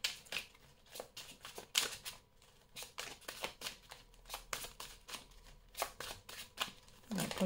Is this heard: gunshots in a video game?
no